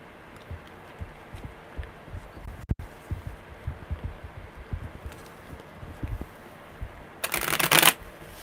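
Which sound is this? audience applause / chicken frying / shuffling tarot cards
shuffling tarot cards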